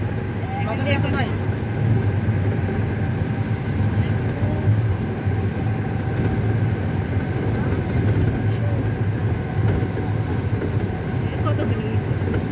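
A metro train runs through a tunnel beneath a river, a steady loud rumble and rattle filling the carriage, with people talking over the continuous noise.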